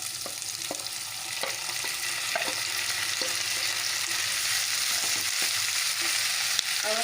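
Potato chunks and French beans sizzling in a pan with browned onions, a steady soft crackle of frying under occasional sharp scrapes and taps of a stirring spoon, close by and without any voices.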